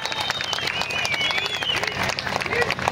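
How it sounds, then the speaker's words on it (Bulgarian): Applause from a crowd gathered at an outdoor village fair, broadband clapping sustained for about three seconds with voices and chatter mixed in throughout. "аплодисменти за всички, браво, браво!"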